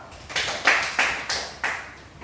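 Classmates in a classroom give a student a round of applause, several bursts of clapping swelling and fading in quick succession, fairly close and without talk.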